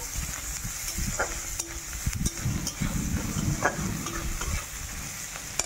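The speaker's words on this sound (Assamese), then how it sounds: "ইপিনে পিঁয়াজ জলকীয়া ৰচুন ভাজি আছোঁ।" Onion, green chili and garlic fry in a pan with a steady hissing sizzle, broken by several sharp scrapes and knocks of a utensil stirring them, close up and with no talk.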